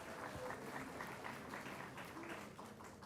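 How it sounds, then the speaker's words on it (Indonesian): Audience applause for Atmajaya at an Indonesian gathering, a steady dense patter of many hands clapping throughout with faint voices mixed in. "Tepuk tangan untuk Atmajaya."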